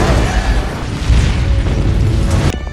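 A deep, sustained explosive roar as a locked-down room is blown up, with rumbling low end that churns steadily for over two seconds, then cuts off abruptly into quieter ringing.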